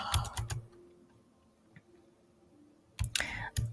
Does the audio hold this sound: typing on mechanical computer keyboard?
yes